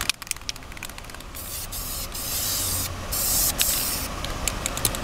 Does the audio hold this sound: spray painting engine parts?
yes